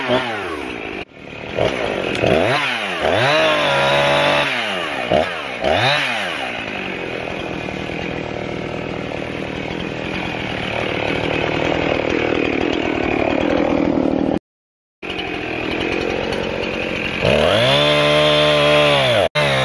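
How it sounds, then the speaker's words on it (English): A chainsaw revs and cuts steadily through a dead apple tree for a long stretch, loud and close, with engine pitch rising and falling in surges, briefly cutting out near the end. "The chainsaw is sharp."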